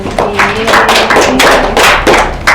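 Children clapping in a classroom, a dense run of broadband claps lasting a couple of seconds with uneven, pulsing bursts, loud and close, with a brief sung or spoken tone underneath at the start.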